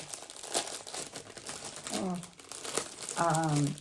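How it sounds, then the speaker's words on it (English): Plastic packaging crinkles and rustles up close in repeated bursts, with a voice speaking faintly underneath. "Cover your ears from crinkling."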